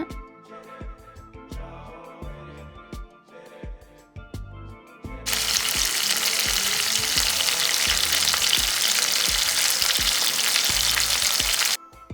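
Small onions, dried red chillies and curry leaves fry in a pan for kara kulambu. A few seconds of spoon clinks and stirring give way to a loud, continuous hiss of sizzling oil that cuts off abruptly near the end.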